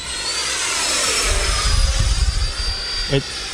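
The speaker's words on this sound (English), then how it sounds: "And I feel the same compunction here to just continue flying the crap out of this jet." An RC jet plane passes overhead with a loud whooshing, sweeping roar that swells and fades, with wind buffeting and a brief voice near the end.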